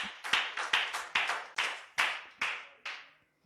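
A church congregation claps in acclaim during a French-language worship service, about nine loud, sharp, evenly spaced claps that slow slightly before stopping, with no talking over them.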